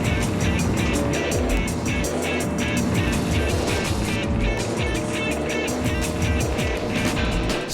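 Arcade racing cars in the Dreamcast game Speed Devils roar continuously with revving engines, rapid gear-shift pulses and occasional tire squeal, loud and sustained throughout.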